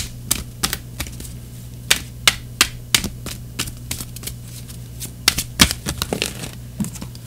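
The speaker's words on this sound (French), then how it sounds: "En complément d'information, ami Sagittaire, on va tirer une carte oracle." Oracle cards being shuffled and drawn by hand, giving a run of crisp, close card snaps and flicks in irregular bursts with short pauses between, over a faint steady hum and no talk.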